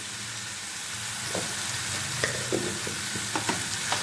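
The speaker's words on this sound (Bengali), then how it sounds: "এটা ভালোভাবে আমি 2 মিনিট কষে নেব।" Spices and fish fry together in a pan, giving a continuous close sizzle broken by several sharp scraping knocks as the mixture is stirred, with no voices.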